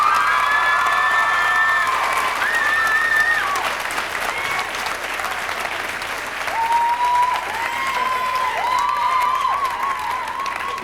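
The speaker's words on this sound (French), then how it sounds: "Applaudissons nos techniciens." Audience applauding the technicians at a live show, loud sustained clapping mixed with cheers, whoops and children's shouts, with sung or shouted tones rising over the crowd.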